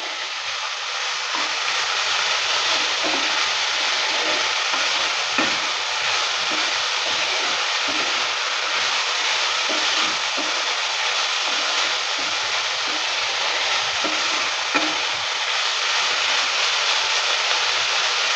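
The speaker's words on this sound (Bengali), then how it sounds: "কিছুক্ষণ সময় নিয়ে ভালো করে একটু ভেজে নেব।" Chopped banana flower (mocha) frying in a pan for a Bengali chorchori, a continuous loud sizzle and hiss held steady throughout with no talk.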